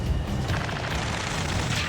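Heavy gunfire and booming explosions rage in an Ace Combat 7 battle near a space elevator, a loud, dense, continuous barrage with low rumbling blasts throughout.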